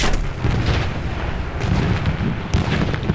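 Anti-aircraft fire strikes a B5N2 torpedo bomber in War Thunder, a dense, continuous barrage of booming flak bursts and crackling impacts, loud and close throughout, with a sharper burst near the end.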